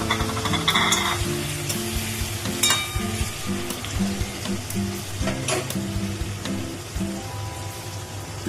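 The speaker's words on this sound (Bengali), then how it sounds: "পনিরটা ভেজে নেওয়ার জন্য আমি কড়াইতে রিফাইন্ড তেল দিয়ে দিয়েছি।" Paneer frying in refined oil in a kadai, a continuous close sizzle and crackle with occasional louder spits, heard alongside background music with no talking.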